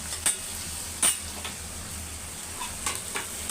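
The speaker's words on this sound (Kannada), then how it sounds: "ಇದು ಚೆನ್ನಾಗಿ ಒಂದು ಸ್ವಲ್ಪ ಮೆಣಸಿನ್ಕಾಯಿ ಕರಿಬೇವು ಹಾಕ್ತೀನಿ." Green chili and curry leaves dropped into hot oil for a potato tempering, giving a soft steady sizzle with a few sharp spits and crackles, close by and fairly quiet, no voices.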